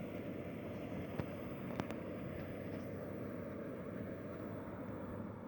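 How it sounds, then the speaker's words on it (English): A pumped camp stove burns at full blast at a beach cookout on Canada's west coast, giving a steady, close, breathy roar with a couple of faint clicks and no talking. "This stove is running full blast."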